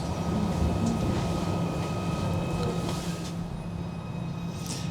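Merseyrail electric train running in the tunnel under the River Mersey between Hamilton Square and James Street, a steady loud rumble with a constant hum and faint high whine near the end, no voices.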